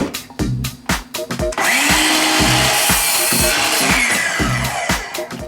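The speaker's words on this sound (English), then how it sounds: "So the first thing we're going to try cutting here is a 1x4 MDF trim." DeWalt 20 Volt Max 7 1/4-inch cordless sliding miter saw, model DCS361, cutting 1x4 MDF trim: the motor spins up loudly after a few clicks, the blade bites through in a sustained whine, then winds down, close.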